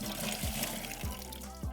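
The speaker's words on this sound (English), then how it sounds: "I like to dump it back in my acid bucket." Acid solution from cleaning a pool salt cell being poured back into a bucket, a steady trickling pour broken by a few low glugs and splashes, close and fairly quiet.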